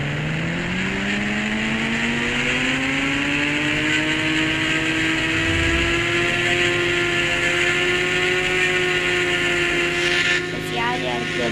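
A KTM RC 390 motorcycle engine holds a loud, steady high rev with a smooth rising pitch, running continuously close by, then a brief change near the end.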